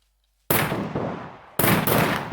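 Two loud, close bursts of automatic gunfire in the survival shooter SCUM, each cutting in abruptly and rattling on for about a second, with no talk.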